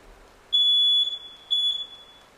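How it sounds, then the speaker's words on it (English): A smoke detector in the game Final Fantasy XIV gives sharp, piercing electronic beeps, one long tone and then a second burst, loud and clear against a quiet background. "there goes the smoke detector again"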